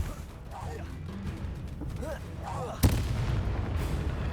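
Confringo blasting spell cast in Hogwarts Legacy: a single sharp explosive crack followed by a rumbling burst over game ambience and faint voices.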